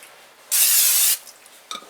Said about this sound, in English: cooking spray or olive oil spray,